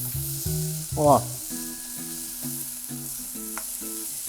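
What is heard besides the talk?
onion frying in a hot pan for sauce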